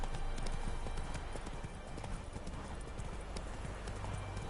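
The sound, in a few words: Geralt's horse Roach galloping, hooves, from video game The Witcher 3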